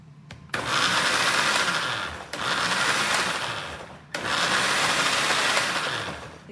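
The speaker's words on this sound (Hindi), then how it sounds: "चलिए मैं इसको यहाँ पे ब्लेंड कर लेती हूँ।" A kitchen blender whirs through pizza sauce mixed with ketchup in three steady bursts of a few seconds each, loud and close, with brief pauses between them.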